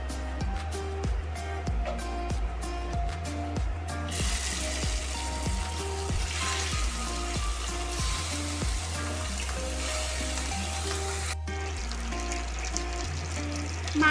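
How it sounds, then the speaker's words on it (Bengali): Small chela fish frying in hot mustard oil in a home kitchen, giving a steady close sizzle and crackle throughout, with clinks of utensils and a low background hum. "এবার আমি এই চেলা মাছগুলো ভেজে নেব"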